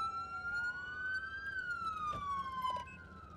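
A police siren wails in a rising and falling sweep, fairly clear and close, with faint background noise, from the video game GTA IV with the LCPDFR mod.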